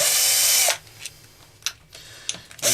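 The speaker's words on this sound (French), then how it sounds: "La visseuse, c'est une grande invention." A cordless screwdriver whirs in two loud bursts at the start and end, removing screws from the clutch of a BMW K1200 GT motorcycle, with faint clicks and tool handling between.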